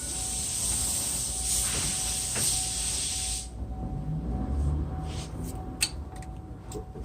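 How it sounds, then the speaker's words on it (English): WD-40 is sprayed onto brake caliper bolts of a Santa Fe, a loud close hissing aerosol burst lasting about three seconds, followed by quieter clinks and handling noises. "remove these two right here and spray WD-40 in it"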